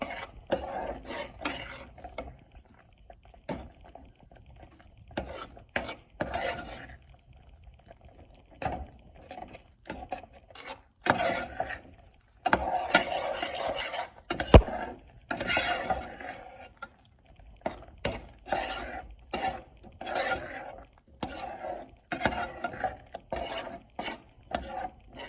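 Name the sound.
stirring thickening burrito filling mixture in a pot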